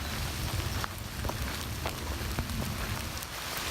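Steady rain falls on a wooded hiking trail off the New England Trail, a continuous close patter with scattered distinct drops and no voices.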